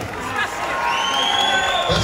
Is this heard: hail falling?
no